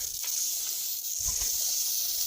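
A homemade manual foam sprayer, built from a pesticide pump, sprays foam onto a car in a steady close hiss that continues without a break.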